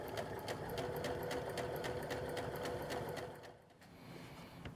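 A sewing machine stitches a skirt side seam, its steady rapid mechanical whir running close and loud for about three seconds before slowing and quieting near the end.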